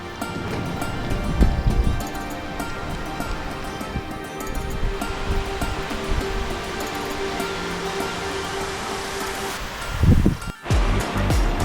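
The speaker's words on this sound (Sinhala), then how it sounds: "මෙතන ලස්සන වතුර පාරක්." A pretty stream of water runs beside a track on the way up toward a turpentine forest, its steady broadband rush continuous throughout with a brief louder surge near the end.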